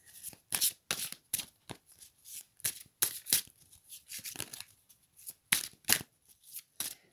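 A deck of angel oracle cards is shuffled by hand, quick papery riffles and slides in irregular bursts, close and fairly quiet with no talking.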